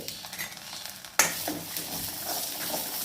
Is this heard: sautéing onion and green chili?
yes